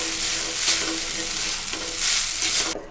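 Vegetable noodles stir-fried and tossed in a hot pan, a steady close sizzle with scraping stir strokes swelling around the midpoint and near the end before cutting off abruptly.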